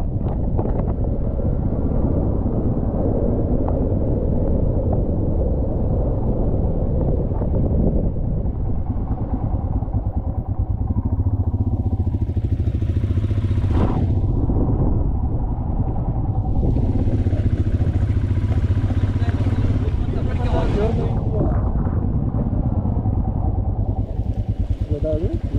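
A motorcycle rides through thick fog on a mountain road at Devaramane Betta near Chikmagalur, its engine a steady drone under heavy wind buffeting the microphone, with a voice talking over it throughout.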